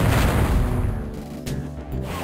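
A smart missile blast in the game Descent bursts in with a loud low boom at the start and then rumbles away, heard alone with no talk.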